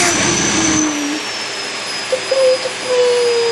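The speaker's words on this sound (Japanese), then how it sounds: "掃除機が好きです。" A vacuum cleaner runs loud and close with a steady motor roar and a high, thin whine held throughout, with a few small bumps near the end and no voices.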